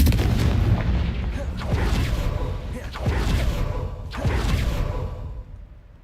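In Hogwarts Legacy, the Confringo fire spell fires in a run of loud, booming blasts, each with a whooshing tail, layered over continuous game noise.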